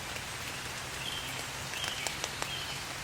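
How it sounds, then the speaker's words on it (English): Light rain patters softly and steadily on a tent at a summer wild camp. A few louder drops tap now and then over the faint, constant hiss. "It's just started to rain."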